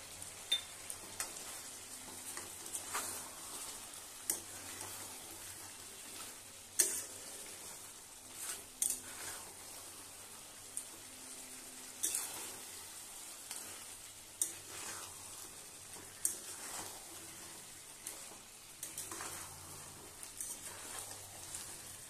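Chicken being cooked down in a pan without oil, with sugar added as it browns, gives a faint, steady sizzle broken by occasional soft stirring scrapes and clinks, with no talking.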